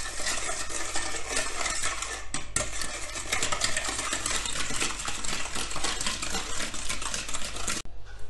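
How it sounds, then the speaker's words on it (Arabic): Liquid ingredients whisked together with melted butter for a stovetop Moroccan sweet, a dense, continuous clatter of utensil against bowl lasting the whole stretch, close and busy with no voices. "في الاول غادي نخلط المكونات السائله"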